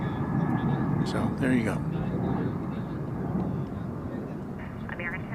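An airliner taxis at DFW Airport toward the east side for a Toronto departure, its steady engine rumble droning in the distance over wind noise while someone talks on and off.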